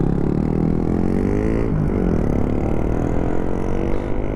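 Engine revving steadily under load while a vehicle rides uphill, a continuous loud mid-pitched drone with harmonics rising and falling slightly throughout, close and alone.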